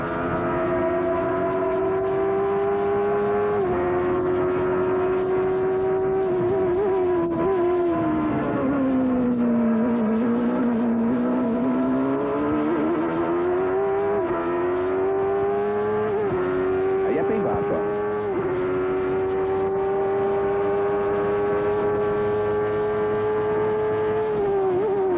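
A 1993 Indy race car at Mid-Ohio, its engine a loud, sustained whine that dips through a downshift to third gear and climbs again, with a commentator talking over it throughout.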